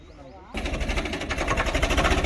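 A tractor engine starts up after half a second of near quiet, then runs steadily with a loud, rapid, rhythmic chugging that builds slightly in strength.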